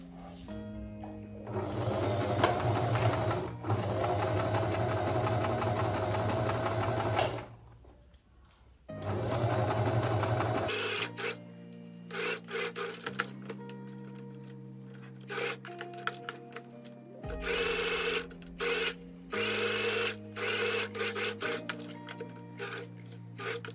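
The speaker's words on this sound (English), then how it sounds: "we're going to sew with a 1 centimeter seam allowance right across the top" A sewing machine runs in bursts of stitching straight across the top of a babydoll summer dress with a 1 cm seam allowance, with a steady whirring stretch, a brief pause, then shorter start-stop runs close by.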